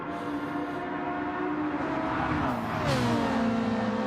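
A Ferrari race car engine in a racing video game holds a steady sustained drone, then rises in pitch and pushes louder as it accelerates, with no talk.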